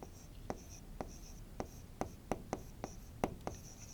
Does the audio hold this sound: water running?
no